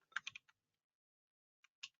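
Computer keyboard keys pressed for Control and arrow shortcuts: a quick cluster of four crisp clicks, a pause of over a second, then two more clicks, close and quiet with no voices.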